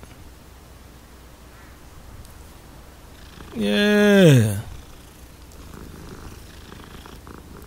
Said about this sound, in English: Oh, damn, it's another cat.